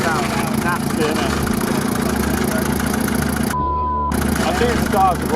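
A rough-running car engine after overheating gives a continuous uneven idle with a knocking character, close and loud. Voices talk over it, and the sound briefly drops out near the end.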